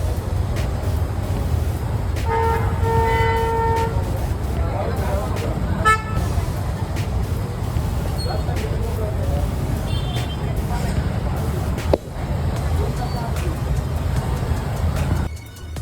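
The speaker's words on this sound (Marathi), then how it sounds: "सगळीकडे ट्रॅफिक जाम." A jammed shortcut road near Fursungi with cars and buses packed in, a steady low traffic rumble broken by repeated short horn toots, with people talking over it.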